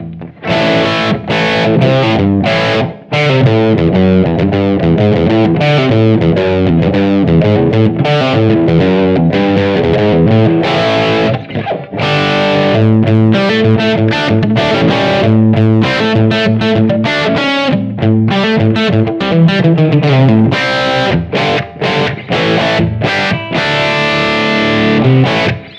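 Electric guitar played through a BOSS eBand JS-10 set to a classic rock-style stack crunch tone, gain only with no overdrive pedal, loud continuous riffing with chords and single notes for the whole stretch.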